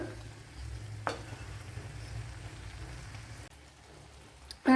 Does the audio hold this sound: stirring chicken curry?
yes